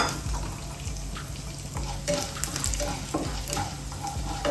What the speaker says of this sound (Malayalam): ഒറ്റ കടുകിലോട്ട് 1 ടീസ്പൂൺ ഉഴുന്നുപരിപ്പ് ഇട്ട് കൊടുത്ത്, ഇതിനകത്ത് 2 മുളക് മുറിച്ചിട്ട് കൊടുത്തേ